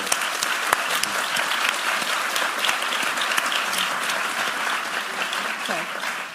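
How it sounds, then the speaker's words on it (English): An audience at an education forum gives sustained applause, a dense, steady wash of clapping from many hands that continues evenly from start to finish. "let's first give them a round of applause"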